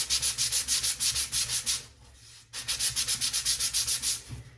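Hand sanding of a smooth surface, heard as steady rhythmic rasping strokes, close and fairly loud, with a brief pause midway before the back-and-forth strokes resume.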